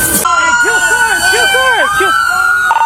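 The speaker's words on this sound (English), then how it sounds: "Kill your sirens." Wailing police sirens from trooper cars in a chase after a homicide suspect, rising and falling in quick yelp cycles with a steady high tone over them, loud and close, with a voice cutting in briefly at the start.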